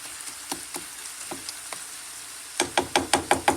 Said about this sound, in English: Here is my meat and my onions, and I've just been chopping it all up with a spatula.